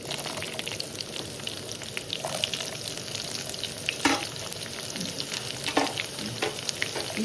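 Onions fry in a hot tempering for tomato pachadi, giving a steady, close, loud sizzle and crackle throughout with a few brief stirring scrapes and no talking.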